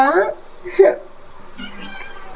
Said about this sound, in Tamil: இந்த பூனை பாரு